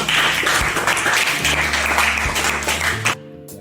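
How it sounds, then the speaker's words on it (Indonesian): A room full of people applauds steadily for about three seconds, then the clapping stops abruptly. "Satu aja cukup, boleh tepuk tangan untuk Mas Tio."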